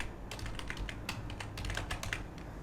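Rapid typing on a computer keyboard while entering a search for a WordPress plugin, with a steady run of close, crisp key clicks and no talk.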